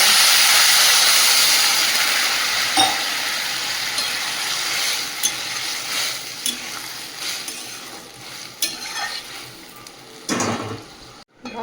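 Water goes into a pan of simmering pumpkin curry and hisses and sizzles loudly at first, the steaming fading gradually as faint stirring clatters come through.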